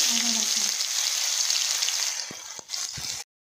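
Whole spices for tempering hiss and sizzle in hot oil for a gourd and lentil dal. The loud, steady frying is broadcast and close, with a few soft clinks near the end before it cuts off.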